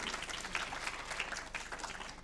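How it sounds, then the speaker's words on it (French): Studio audience on a France 3 television programme applauding, a steady wash of clapping at moderate level for a couple of seconds with no voices over it. "On peut l'applaudir."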